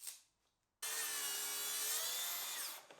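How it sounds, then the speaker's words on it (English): A plunge saw rips a straight edge along a piece of timber, a loud sustained whining cut of about two seconds after a brief quiet start, then spinning down. "I'll need a straight edge on this piece first, so I'm going to use the plunge saw for that."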